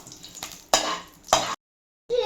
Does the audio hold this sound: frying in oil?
yes